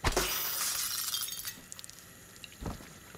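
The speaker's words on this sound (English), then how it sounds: "Oh, that's another looking glass panel. Oh, we can just break through them." A looking-glass panel in the Prey video game shatters with a loud, bright crash at the start, then glass debris tinkles and scatters, followed by a second thud and crunch near the end.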